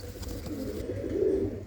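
Pigeons coo in low, rounded murmurs, several overlapping calls rising slightly toward the end, close by and steady with no talk.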